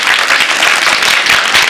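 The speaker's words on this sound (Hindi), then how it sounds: "कृपया ताली बजाकर स्वागत करें और अभिवादन करें।" An audience at a school Republic Day celebration claps in steady, dense applause, loud and continuous throughout with no pauses.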